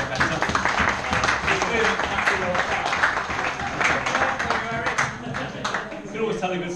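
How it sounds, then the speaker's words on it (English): A room of guests at an annual squash club dinner breaks into a round of applause for Eric, steady dense clapping filling the whole stretch with a few voices mixed in. "Can we have a round of applause for Eric"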